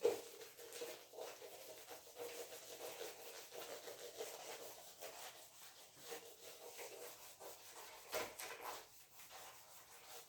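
Writing being erased from a board by rubbing, a faint continuous scrubbing swish with uneven strokes, quiet and close, with no talking.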